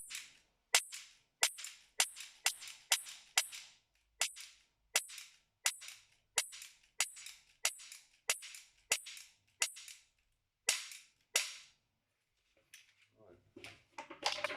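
About sixteen sharp gunshots ring out at a shooting range as a hostage target is engaged, fired singly at a steady irregular pace with brief echoing tails, then a short stretch of faint rustling.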